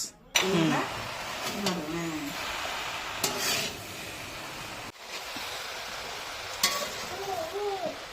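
Gourd and spinach stirred in fish oil in a pan, a steady scraping, sizzling hiss running the whole time close by, with a voice talking over it.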